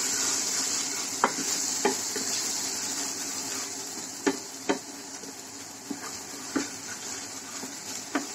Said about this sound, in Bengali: এটা আমি তেলে একটু ভাজা ভাজা করে নিব।